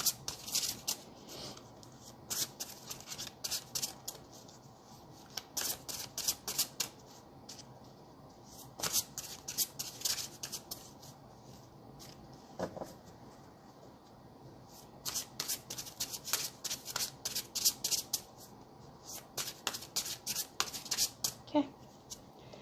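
Spirit of the Animals oracle cards by Jody Bergsma shuffled by hand in repeated bursts of crisp riffling and soft slides, close and fairly quiet, with brief pauses between bursts and no talking.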